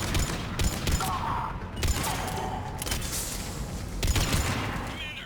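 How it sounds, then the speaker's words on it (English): Video game battle with mortar fire and gunfire: a dense, continuous clatter of shots and muffled blasts, loud and steady throughout, with a few stronger bursts standing out and no voices heard. "Commander, we're getting a lot of mortar fire. Heavy casualties."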